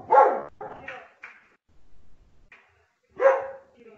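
A pet dog barks and yips a few times indoors, close and fairly loud, with short whimpery sounds in between.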